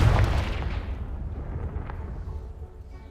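Confringo fire-blast spell cast in Hogwarts Legacy, a loud booming explosion at the start that rumbles and fades over about three seconds, with no one talking.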